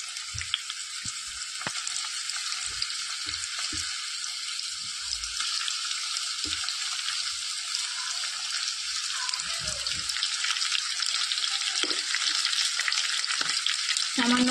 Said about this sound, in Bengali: তেজপাতা দারচিনিটা দেওয়ার পর আমি এখানে পেঁয়াজ কুচি দিয়ে নেব।